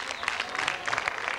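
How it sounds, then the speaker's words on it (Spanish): Faint, distant crowd applause for a participant at a fair pageant contest: a brief, dense patter of many hands clapping together. "aplauso para entusiasmar a la primera participante"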